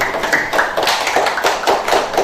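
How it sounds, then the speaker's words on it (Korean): Group applause at a garlic brand partnership signing ceremony in Yeongcheon, a steady patter of many hands clapping together at close range, continuous and moderately loud without speech. "자, 박수 한번 치고 어떠세요?"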